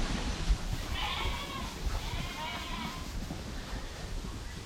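Freshly sheared sheep being fed out on pasture bleat a few times over a steady rustle of wind and movement, the calls moderately close and overlapping.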